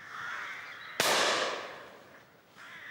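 A single sharp gunshot cracks out during a rook hunt in open countryside, loud and close, followed by a fading rolling echo, with faint crow caws heard around it.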